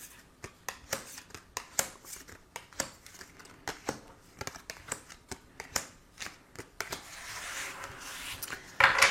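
Tarot cards being drawn and handled for a reading: close, soft papery flicks and taps repeat in an uneven rhythm, ending in a brief louder rustle, with no voices.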